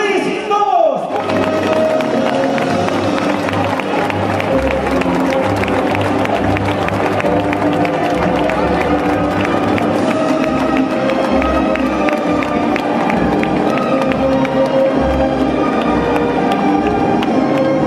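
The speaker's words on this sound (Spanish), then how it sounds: "¡Vamos a gritar otra vez!" A festival crowd at the Alcorcón patronal fiestas roars and cheers continuously, loud and close, with a voice shouting over a sound system amid the dense crowd noise.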